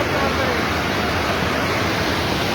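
Floodwater after a cloudburst on a farm river, pouring over a bridge blocked by debris. It makes a dense, continuous roar of rushing water, loud and close, with no break for the whole stretch.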